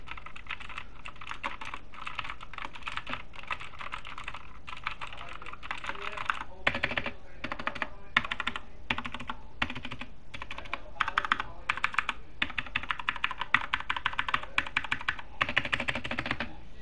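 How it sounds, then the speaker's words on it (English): Rapid typing on a computer keyboard, close and steady, with bursts of clacking keystrokes that grow busier and louder in the second half. "here's a sound comparison. So this is my keyboard that I've been using."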